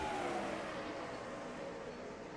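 Pizza Hut Truck Series race trucks pulling away under green flag at North Wilkesboro, a steady, dense engine drone at moderate distance with no distinct passes.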